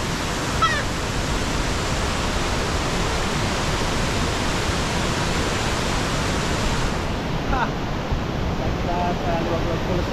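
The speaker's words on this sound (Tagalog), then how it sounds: "Sa Liwagwag Falls, oh." Liwagwag Falls pours out a steady, dense roar of rushing water that holds at an even level throughout, with only faint higher sounds breaking through near the end.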